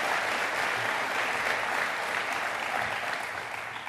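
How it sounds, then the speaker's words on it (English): A crowd claps steadily in a broad, even wash of applause that softens slightly near the end; no one speaks. "I think another round of applause for doing that the first time in English."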